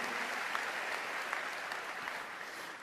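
A church congregation claps together in sustained, even applause that fills the room and fades slightly at the end, with no talking over it.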